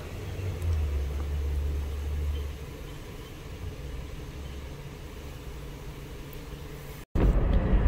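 A Nissan Pathfinder R51 on a road test after an ABS sensor replacement, heard as a steady low engine and road rumble from inside the cabin that eases off partway through, then a brief cut and a louder burst.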